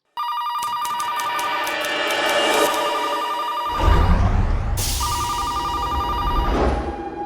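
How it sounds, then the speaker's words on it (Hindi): A telephone rings on and on in a factory with no one picking up, the repeated electronic bell pulses continuing steadily over a dramatic music bed with a low rumbling swell midway. "फैक्ट्री में कोई फोन नहीं उठा रहा है।"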